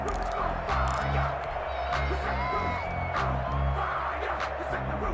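A distant stadium crowd cheers and roars steadily in an American football video game, with whoops rising over a low, continuous rumble of noise.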